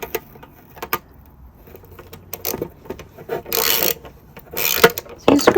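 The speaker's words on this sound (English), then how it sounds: "I'm holding that and I'm screwing underneath." Hand-driving a screw into tile backing board from underneath: close, uneven scraping and turning creaks in short bursts, with some louder rustling grinding toward the end.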